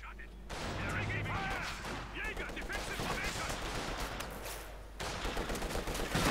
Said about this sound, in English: Firing away there, getting off some good shots.